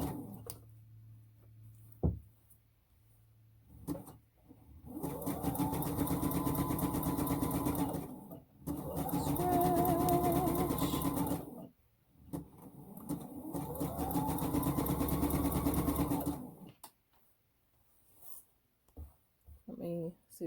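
A sewing machine stitches T-shirt knit fabric in three steady runs of fast mechanical whirring, each several seconds long and separated by brief pauses, with quiet handling noises between them.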